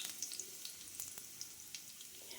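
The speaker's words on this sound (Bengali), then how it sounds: "বেশ ভালো করে কিছুটা সময় রসুনটা ভেজে নেব, যাতে করে রসুনের কাঁচা গন্ধটা চলে যায়" Sliced garlic frying in hot oil in a pan, cooked for masoor dal chochchori, gives a steady soft sizzle with small crackling pops throughout, close and fairly quiet.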